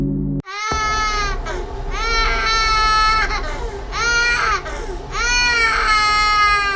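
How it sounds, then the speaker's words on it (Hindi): A child crying sound effect in a Hindi horror story set in a haunted hostel: loud, sustained wailing sobs in repeated rising and falling bursts, close and alone with no talk over it. "तभी किसी बच्चे की रोने की आवाज प्रभात को सुनाई देती है।"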